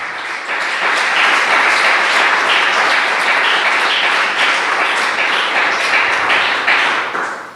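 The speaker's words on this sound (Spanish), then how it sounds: "Dele un fuerte aplauso al Señor." A church congregation at a Spanish-language Sunday service claps loudly and continuously for about seven seconds. The sustained applause fills the room with no talk over it.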